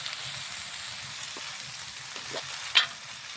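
Spices with turmeric and cumin powder sautéed with potato and bottle gourd in a pan, a steady close frying hiss with a few soft stirring scrapes and one brief sharper clink near the end.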